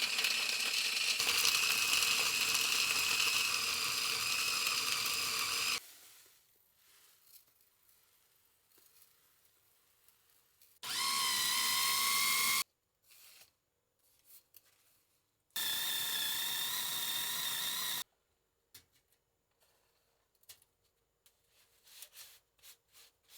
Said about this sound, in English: I'm going to throw them in the food processor, add some kosher salt